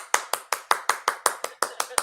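Around a dozen sharp hand claps come in quick, evenly spaced succession, close and crisp, each with a short decay and nothing else around them.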